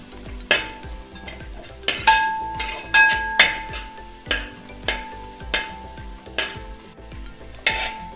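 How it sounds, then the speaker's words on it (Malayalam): Vegetables sautéing in a pan for egg fried vermicelli: a close, steady sizzle broken by regular metallic clinks and scrapes of a spoon stirring, about one every second. "ഈ പച്ചക്കറികളെല്ലാം നല്ലോണം ഒന്നും വേവേണ്ട കാര്യമില്ല, ചെറുതായിട്ടൊന്ന് വെന്ത് കിട്ടിയാൽ മതി"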